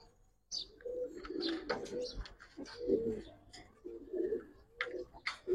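Pigeons coo in soft, repeated rounded calls during a sale of Giribaz and colouring pigeons, with faint chirps and rustling around them, close by and overlapping a voice.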